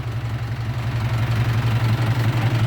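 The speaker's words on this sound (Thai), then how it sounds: "แล้วสิพาพี่น้องไปเบิ้งเครื่องนะครับ" A used six-wheel truck's engine is revved, running with a steady low, pulsing rumble, close and continuous, holding at an even pitch.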